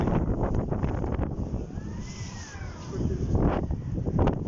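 Strong outdoor wind roars and buffets the microphone in continuous gusts, loud and rumbling throughout, swelling near the start and again toward the end, with no talk.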